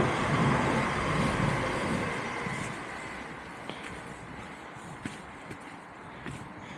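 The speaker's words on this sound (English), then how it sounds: "Oh, it sounds like a train going overhead." A loud, broad rumble of a train passing overhead in Hathersage fills the first few seconds and then gradually eases off, with scattered light clicks and taps over the fading roar.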